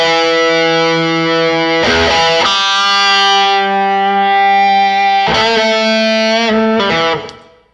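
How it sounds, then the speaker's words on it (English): Electric guitar played through fuzz or Tube Screamer-style overdrive pedals, ringing out loud, sustained distorted chords with a few sharp changes between them before fading at the end. "You can use fuzz faces or tube skimmer type drives."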